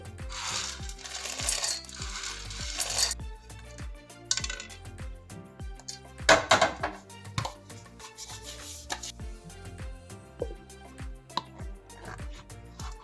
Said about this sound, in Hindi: तो अब मैंने लिया है यहाँ पे एक जार, और उसमें ये सभी चनों को डाल लेंगे